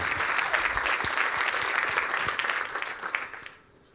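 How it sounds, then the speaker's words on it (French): Audience applause at a watch awards event fills the space, steady dense clapping from a large crowd that holds for about three seconds before fading off. "merci à Tagueillère, que je vous demande d'applaudir"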